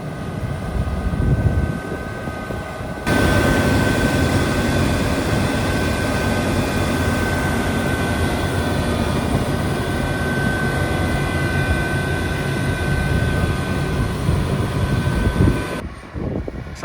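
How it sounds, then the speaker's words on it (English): A New Holland tractor engine roaring with a steady, jet-like whine and rush, loud and close, running continuously for the whole stretch after a lower rumble at the start. "Sounds like a jet, that tractor."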